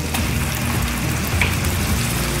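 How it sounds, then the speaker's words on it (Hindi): Minced meat (keema) frying in a pan, a dense steady close sizzle with faint crackles and a low hum underneath, continuous throughout with no talking. "थोड़ी देर कीमे को अच्छे से भून लेंगे, फिर बाकी के मसाले डालेंगे।"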